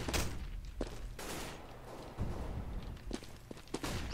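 Gunshots in Counter-Strike on the Mirage map: a few sharp, scattered shots and clicks at moderate to low level, mixed with footstep-like tapping, no talk over them.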